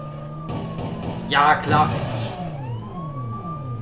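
Ambulance siren in the police-chase video game World's Scariest Police Chases, a wailing tone sweeping up and down through the clip with a brief burst of louder game noise near the middle, while a person talks over it.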